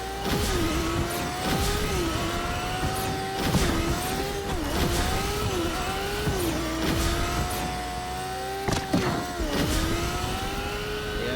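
A motorcycle in the Fortnite Creative Racer Island racing game revs hard and repeatedly, its engine pitch climbing and dropping with each gear shift and corner, with occasional sharp tire squeals and impacts and no talking.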